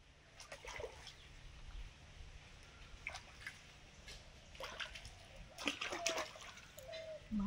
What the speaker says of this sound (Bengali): এগুলো পরিষ্কার করে মাটি সব ধুয়ে নিচ্ছি